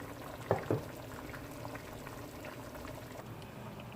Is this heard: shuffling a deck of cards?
no